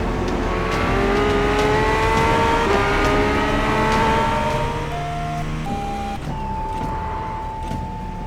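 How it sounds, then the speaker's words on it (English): A race car in the iRacing sim accelerating and shifting, its engine note climbing steadily through the gears while faint short brake-indicator beeps tick over the drone, loud and continuous without a voice. "Those beeps that you're hearing are braking indicators, and that's telling me where to start and where to really go on the brakes."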